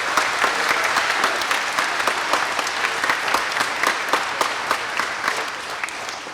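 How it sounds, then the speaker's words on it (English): Audience applause for student performers at a school showcase, a dense, steady clapping from a crowd that carries on without a break and fades slightly toward the end. "Let's give them a round of applause."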